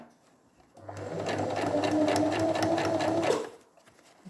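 A sewing machine runs in one steady burst of about three seconds, stitching a seam joining two pieces of fabric for a V-neck facing. It whirs loudly and continuously, then stops, with no talk over it.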